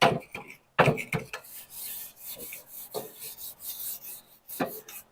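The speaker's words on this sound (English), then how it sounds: "the reason I clean these grates now instead of right after cooking, these are cast iron" Cast iron grill grates are scraped and cleaned with short rasping, rubbing strokes in irregular bursts separated by brief pauses, close and fairly quiet.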